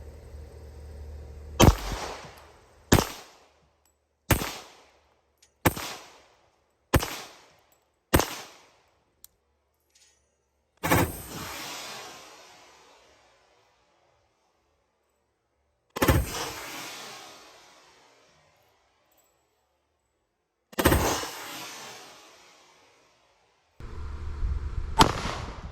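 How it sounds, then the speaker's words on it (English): A .50 GI caliber 1911 pistol fires a quick run of six sharp, loud shots, then three slower shots spaced several seconds apart, each leaving a decaying outdoor echo, with a final blast at the end. "now it's my turn to shoot the 50 GI"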